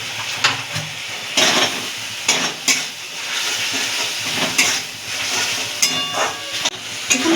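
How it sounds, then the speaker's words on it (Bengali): Spice paste with meat masala stirred and fried for a pointed gourd curry, a continuous hissing sizzle broken by repeated louder scrapes and knocks of a spoon against the pan, no voices. "দিয়ে এবার এটাকে আর একটু নাড়াচাড়া দিয়ে কষাবো।"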